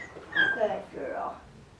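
A Goldendoodle dog whines and whimpers in its crate, giving two close, loud, pitched yelping cries in quick succession.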